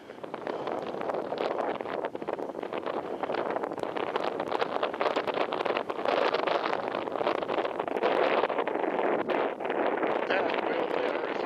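Strong wind buffets a microphone outdoors at a high viewpoint in the Lava Beds area, making a loud, continuous rumbling roar with constant gusty flutter that lasts the whole time.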